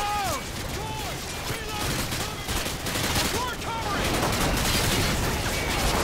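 Gunfire from the video game Modern Warfare 2 during a snowy sniper mission rattles in dense bursts with whizzing, sweeping tones over a loud, continuous battle din.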